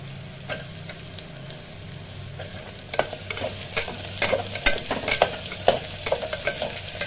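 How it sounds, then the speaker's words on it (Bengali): Potatoes frying in a hot pan with ginger-garlic paste for a sweet gourd karela curry, a steady close sizzle broken by repeated scraping stirs that grow busier toward the end. "প্রথমে আমি আলু দিয়ে দিচ্ছি।"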